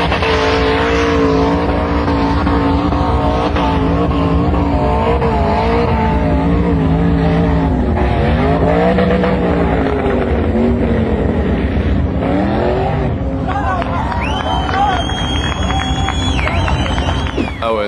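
A truck engine labours and revs continuously on a steep off-road hill climb. The note rises and falls at loud, sustained volume, with brief higher whines near the end.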